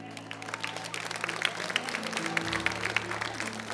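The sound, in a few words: church audience applause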